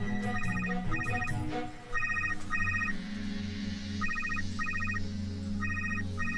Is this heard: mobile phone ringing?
yes